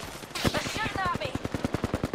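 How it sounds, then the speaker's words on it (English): Rapid automatic gunfire in Apex Legends during a firefight, a steady train of sharp bursts running through the whole stretch, with a voice briefly talking over the shots. "They're shooting at me!"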